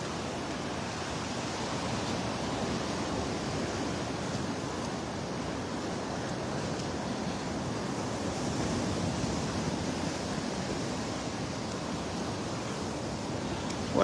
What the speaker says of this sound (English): What I'm hoping is that these waves die down here.